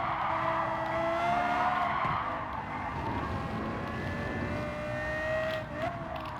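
Lexus LFA racing in Gran Turismo 7, a loud sustained engine tone climbing and shifting pitch with tire squeal and skidding layered over it, close and continuous with no speech.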